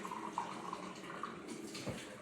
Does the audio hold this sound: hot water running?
yes